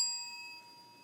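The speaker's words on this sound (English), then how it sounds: "they will indicate so by ringing a bell" A single bell strikes once, a clear ringing tone that fades away gradually, quiet and alone.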